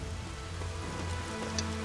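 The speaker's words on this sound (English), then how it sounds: "it's literally raining in the palace" Rain falls steadily inside a palace in the video game Dynasty Warriors 9, a continuous soft patter of drops on surfaces with no talking.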